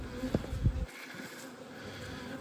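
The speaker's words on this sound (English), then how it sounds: "Bees are less than happy with me right now." Honeybees buzz around an opened hive in early spring, a faint, continuous hum with a few louder low thumps or handling bumps at the start.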